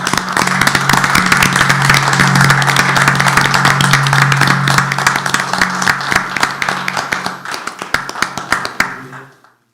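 A small group at a town council meeting applauds, clapping loud and close at first, then thinning to scattered individual claps before stopping, over a faint steady hum.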